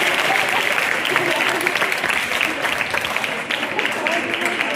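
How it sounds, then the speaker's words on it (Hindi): At a girls' school board event, an audience claps loudly and continuously in a dense, sustained wash of applause, with voices mixed in beneath. "तालियां बजती रही"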